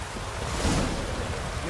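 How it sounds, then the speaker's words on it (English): Rain in The Witcher 3 hisses as a steady broadband downpour, with a voice speaking over it. "No use doing any work in this rain."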